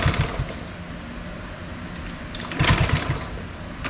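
A Honda Z50 motorcycle engine sputters as it is kicked over, brief bursts of rapid popping at the start and again later, with low mechanical rumble between, fairly close.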